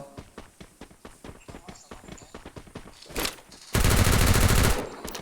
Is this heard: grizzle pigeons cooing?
no